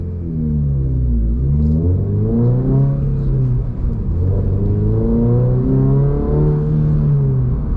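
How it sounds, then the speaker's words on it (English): A 2024 Subaru BRZ sports car engine drones steadily at high revs, its pitch sweeping up and down in long waves as the throttle rises and hangs, loud and close throughout. "Revs are hanging so much."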